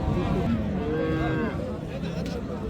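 Cattle at a cattle market where cross Friesian cows are being sold, lowing in drawn-out moos against a dense, noisy crowd background.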